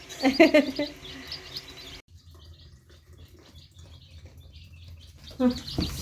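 High, thin chirps from ostrich chicks come in quick bursts at the start and again near the end, with quieter rustling and murmuring between them.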